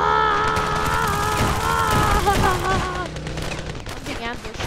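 Rapid bursts of automatic gunfire and battle sounds in the video game Ravenfield, loud and dense, with a voice talking over the shooting.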